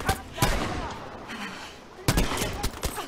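Gunfire in the video game Battlefield V, a few sharp shots scattered over three seconds, with a loud cluster near the end, under a low background rumble.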